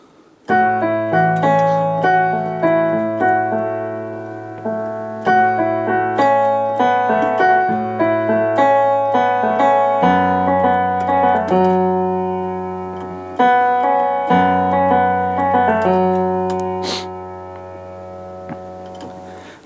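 Solo piano plays the opening verse of a song, with sustained low bass notes under repeated flowing chords, loud, close and clear throughout, without any talking.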